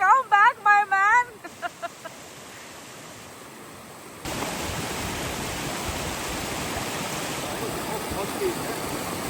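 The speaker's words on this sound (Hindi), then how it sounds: "देखिए कितनी तेज फ्लोट कर रहा है वाटर" Fast-flowing river water near Lungern, Switzerland, rushing as a dense, steady roar that swells louder midway and continues unbroken, with a brief voice at the start.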